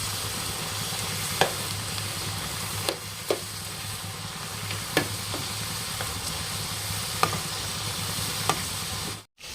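Potato rolls fry in a pan with a steady sizzle while a spoon stirs them, giving a few soft scrapes and taps spread out over the hiss, close by and without speech.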